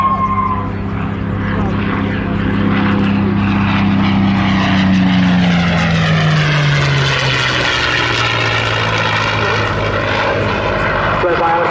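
A P-51 Mustang flies past at the Southport Airshow, its propeller engine droning loudly and sweeping down in pitch as it passes overhead, with a commentator talking over it throughout.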